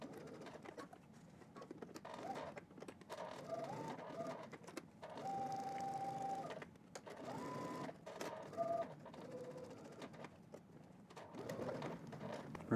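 Sewing machine stitching a puffer jacket seam, a faint rapid mechanical whirr running in bursts with short pauses and brief tonal whines, quiet and close, no talk.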